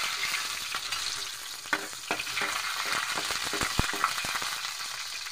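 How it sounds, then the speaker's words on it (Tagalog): Garlic sizzles and fries steadily in hot cooking oil in a pan, with a continuous crackle and occasional sharp utensil clinks from stirring. "Ating mantika, magsimula na tayo sa gisa."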